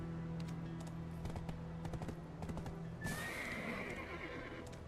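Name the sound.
horse neighing and galloping in a video game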